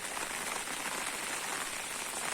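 Heavy rain pours down in a dense, even hiss of drops hitting surfaces while water runs through channels, loud and unbroken throughout the short stretch.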